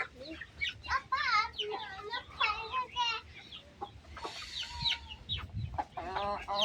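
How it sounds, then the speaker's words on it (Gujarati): Native village chickens and roosters, small and large, cluck and squawk repeatedly at close range, a busy mix of short calls with a person speaking briefly among them. "તમે દેખ, આ બધા મરઘા છે નાના મોટા."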